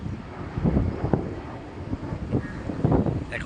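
Strong early-morning wind gusts buffet the microphone with a steady low roar, swelling in bursts and dropping back, rough and close throughout.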